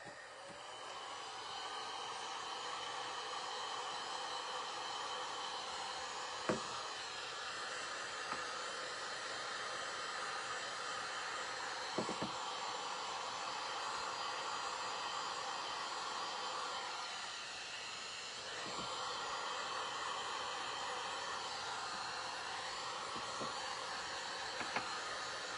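A dryer blows air steadily to dry items, a soft continuous whoosh heard fairly quietly with slight shifts in tone and a few faint clicks along the way.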